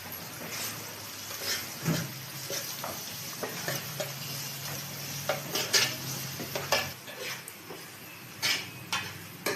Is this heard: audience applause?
no